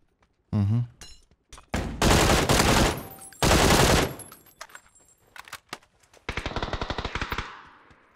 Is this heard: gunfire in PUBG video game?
yes